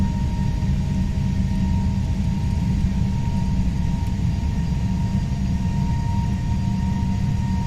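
Airbus A320neo jet engines held at takeoff thrust during a night runway roll in a flight simulator, a loud, steady rumbling roar with a constant hum, no talk over it.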